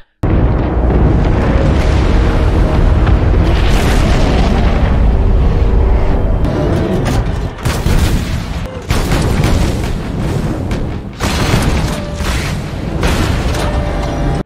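Loud battlefield explosions from the war film Hacksaw Ridge, with deep booms and bursts rolling one after another over a continuous roar of combat for the whole stretch.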